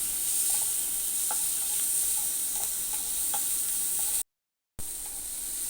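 Egg, onion and chopped tomato are stirred together in a hot pan, making a steady hissing sizzle with soft periodic scraping taps of a spatula. The sound is close and continuous and cuts out for a moment near the end.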